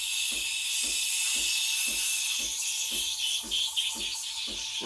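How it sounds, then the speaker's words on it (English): A Breville Barista Express BES870 steam wand hisses steadily as it froths milk, with a faint rhythmic low thumping underneath, close and continuous with no speech. "You want to hear that hissing noise? That means you're injecting air, which is good."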